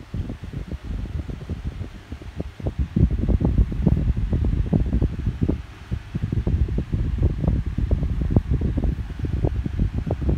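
Two electric fans running together at maximum speed produce a steady, loud whooshing airflow with rapid buffeting wind noise against the microphone, growing stronger after the first few seconds and continuing throughout.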